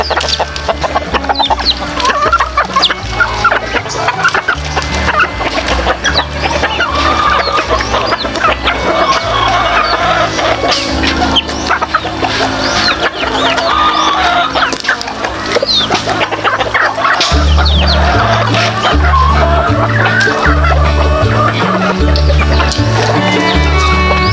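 A flock of backyard chickens clucking busily and continuously close by, with overlapping calls from several birds, loud and dense, joined by a steady low rhythmic beat in the background.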